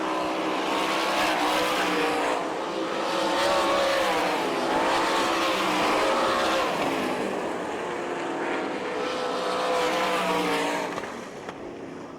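Sprint race cars on the final lap of a 10-lap heat race at the All Star Circuit of Champions Winter Nationals in Gibsonton, Florida, engines roaring loudly and steadily as the pack sweeps past, rising and falling without a break.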